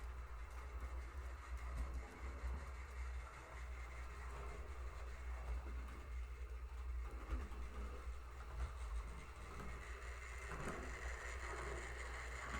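An HO scale model train engine runs steadily along its track, a faint, continuous low rumble and whir with no talking.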